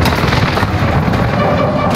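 Precision airstrike explosions in the Warzone video game land as a dense, continuous barrage of booming blasts and crackling impacts, loud and close throughout with no pause.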